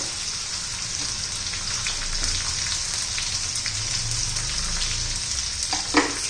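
Ginger-garlic paste sautés in oil and butter for masala pav with a dense, steady sizzle like light rain, close and fairly loud, with a single clink of a stirring spoon near the end.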